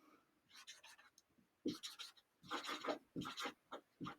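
A pen scratches across paper in quick, irregular bursts of drawing strokes, close and quiet, with short pauses between marks and no talking.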